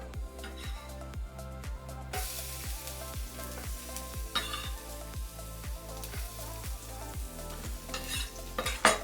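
Prawns and basil cook gently in a pan, with a continuous soft sizzle under regular, rhythmic stirring and scraping strokes that repeat steadily throughout.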